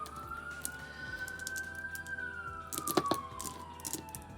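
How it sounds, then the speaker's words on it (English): A faint emergency siren wails outside a home, one long rising and falling tone drifting in from the distance, with a few small clicks and handling noises nearby. "Excuse the siren outside."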